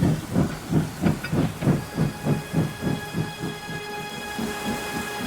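A steam locomotive pulls out of the rail yards, its exhaust chuffing in a steady rhythm that slows over several beats, while a sustained whistle-like steam hiss rings above it.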